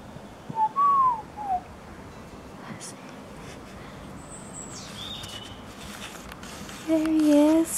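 An owl calls in the gardens of Eastwell Manor, giving a few short whistled notes near the start and again at the end over a quiet, steady outdoor background.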